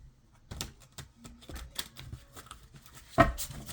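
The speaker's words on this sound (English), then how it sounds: "Just going to do a quick little shuffle here." Short bursts of card shuffling, a few quick riffles and flutters spread across the clip, ending in one louder snapping riffle near the end.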